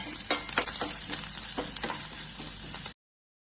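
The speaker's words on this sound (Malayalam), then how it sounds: "ഇത് മൂന്നും കൂടെ ഞാൻ ഒരുമിച്ച് ഇട്ടിട്ട് ഒന്നിങ്ങനെ വഴറ്റിയെടുക്കുക" Crushed black pepper and cumin sautéed in a pan for kara pongal, a close, bright sizzle broken by several quick stirring scrapes, stopping abruptly near the end.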